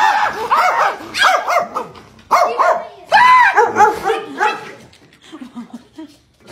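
A startled dog barks and yips in short sharp bursts, loud and close, with a brief whimpering whine trailing off at the end.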